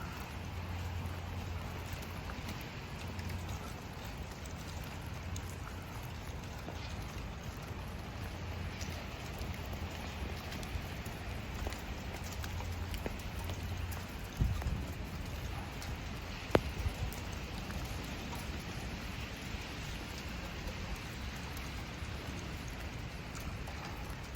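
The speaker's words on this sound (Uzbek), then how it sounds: "Yomg'ir ham bearmon yog'yapti." Steady rain falls throughout, a continuous broadband hiss with a few louder spatters and taps standing out near the middle.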